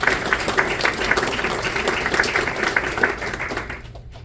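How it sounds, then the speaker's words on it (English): Crowd at a Lake Michigan Day event claps for the planning committee, a moderate burst of applause with some individually distinct hand claps, fading out near the end. "big round of applause for our planning committee"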